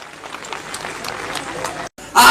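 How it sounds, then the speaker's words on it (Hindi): Applause from a crowd at a political rally in India, a dense wash of clapping that carries on steadily, breaks off in a brief gap and swells loudly again at the end. "आप जोरदार तालियों से उनका स्वागत करें।"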